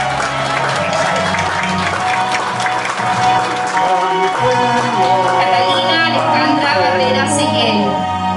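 A graduation crowd for a school's 2020 senior class bursts into loud, sustained applause with cheering, while music plays underneath throughout.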